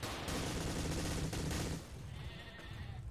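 Rapid gunfire from the World War II dinosaur shooter game Dino D-Day rattles in a dense, loud burst that stops partway through, leaving quieter game ambience.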